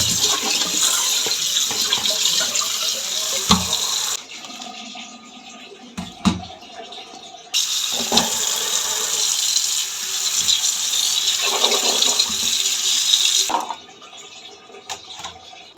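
Vegetables, including aubergine, are washed under a running tap in a village kitchen: loud gushing water in two long stretches broken by quieter pauses with small clunks and handling sounds.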